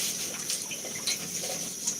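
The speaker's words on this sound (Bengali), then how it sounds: "পান ধুচ্ছি, খুবই বিরক্ত লাগে।" Tap water runs and trickles steadily over betel leaves being rinsed by hand, with soft splashes and drips close by and no voices.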